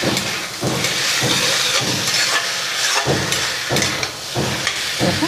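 Amaranth stalks with coriander powder, cumin powder and garam masala stirred in a hot pan, giving a loud, continuous sizzle and hiss with rhythmic swishes as the mixture is turned over, close up and with no voices.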